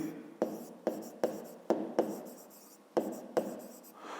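Pen writing on paper while working a grade 5 math exercise: repeated short scratchy strokes, about eight quick bursts in steady rhythm, close and clear with no voice.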